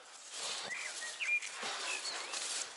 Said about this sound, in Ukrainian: Так що бачите, пташки співають приємно.